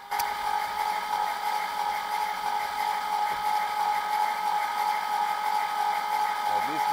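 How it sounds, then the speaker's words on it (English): An Alfa Romeo Montreal engine cranks over on the starter with the ignition disconnected and plugs loose, giving a steady, continuous whirring mechanical drone that holds at an even level throughout without firing. "We just crank it over for oil pressure."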